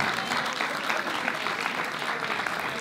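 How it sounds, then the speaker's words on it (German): Audience at a hip hop 2vs2 dance battle quarter-final at a Pfingstcamp applauds steadily, a dense, loud wash of clapping holding evenly through the whole stretch without pause. "Auch bitte dicken Applaus"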